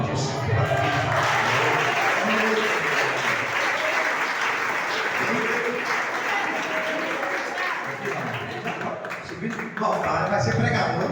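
Congregation applauding during a church service, loud sustained clapping filling the room throughout, with a preacher's voice speaking over it.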